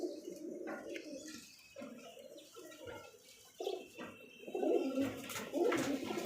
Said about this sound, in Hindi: माशाल्लाह बहुत ही अच्छा कबूतर है।